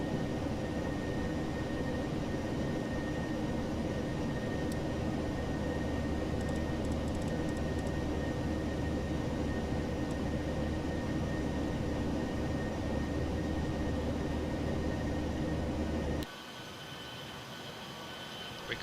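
A Boeing 737-800 in a flight simulator takes off with its jet engines at full throttle: a loud, steady, broadband roar holds for about sixteen seconds and then drops off suddenly to quieter cabin noise.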